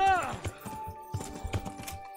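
A horse's hooves clip-clop at a trot in the medieval game Kingdom Come: Deliverance, with a neigh at the start and then a run of close, rhythmic hoofbeats.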